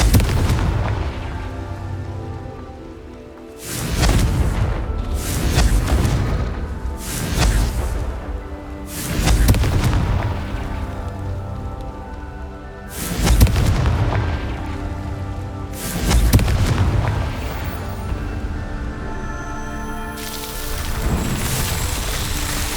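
Repeated heavy booming spell blasts from the fire curse Confringo in Hogwarts Legacy, about seven loud bursts spaced a few seconds apart over a continuous rumbling game soundscape.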